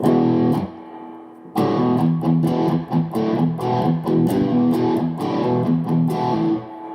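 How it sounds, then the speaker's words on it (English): Distorted electric guitar through the dirty channel of a MESA Rectoverb amp, chugging and strumming in a steady rhythm, loud and gritty, with sustained overdriven chords, no reverb and no voices. "Dirty channel."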